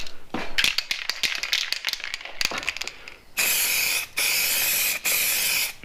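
An aerosol spray paint can coats a car hood from an SRT4: first a stretch of rattling and clicking, then three long, loud, close hissing bursts separated by short pauses.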